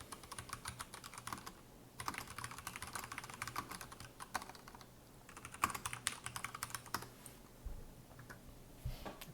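Quiet clicking of a computer keyboard as a book title is typed into a library catalog search, in short bursts of rapid keystrokes separated by brief pauses.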